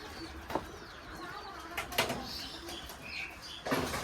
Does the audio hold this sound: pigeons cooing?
yes